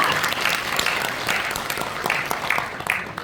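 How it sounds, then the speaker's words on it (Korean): A crowd at a Korean blockchain association anniversary ceremony claps continuously and fairly loudly, a dense patter of many hands with no voices. "큰 박수 부탁드립니다."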